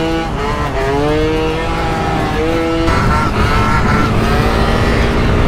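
A Kymco scooter with a seized Booster engine revs hard during a wheelie, a loud, continuous buzzing whine that rises and falls in pitch, up close.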